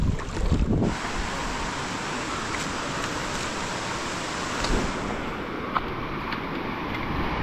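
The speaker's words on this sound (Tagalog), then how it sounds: "Ay ang hangin nga." Strong wind roars steadily into the microphone, buffeting loudly at the start, with a broad rushing noise throughout and no talking.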